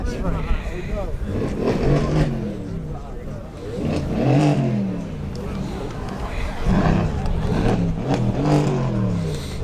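A Mercedes-AMG engine revs repeatedly at an outdoor car event, rising roars swelling and dropping a few times, fairly loud over nearby crowd noise with people talking close by.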